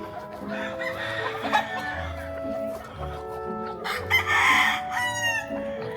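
Gamefarm roosters crow and cluck while they feed, with several birds calling over one another close by and a louder crow near the end.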